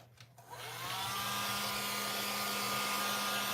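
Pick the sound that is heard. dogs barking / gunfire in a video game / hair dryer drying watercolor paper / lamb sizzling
hair dryer drying watercolor paper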